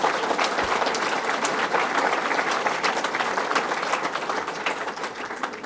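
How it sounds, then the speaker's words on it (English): A large crowd at a fishing tournament ceremony applauds in a continuous, even wash of clapping that holds steady for several seconds, with a few voices faintly mixed in. "Let's give them a round of applause."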